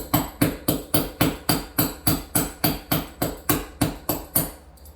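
A hammer taps a wall anchor into a 3/8-inch drilled hole, about fifteen evenly spaced sharp knocks close by, the rhythm slowing slightly before stopping.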